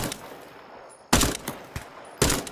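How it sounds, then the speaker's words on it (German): Gunfire in the shooter game Incursion Red River: two loud, sharp volleys of shots about a second apart stand out over a quieter bed of in-game ambience, with a fainter crack or two in between. "Ja, aber bei mir gingen eben die Schüsse ein."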